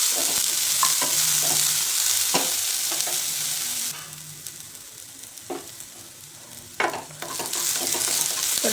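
Chopped onion and green chili sautéing in hot oil with cumin, giving a continuous crackling sizzle with repeated scraping stirs. It quietens midway, then flares back up to a brighter sizzle.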